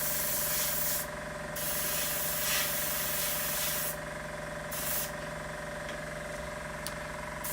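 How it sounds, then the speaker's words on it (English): An airbrush sprays paint onto a Saab 105 scale model in a steady close hiss, broken by a few short pauses as the trigger is released and pressed again, with a faint motor hum beneath. "I don't know what is coming through this airbrush right now"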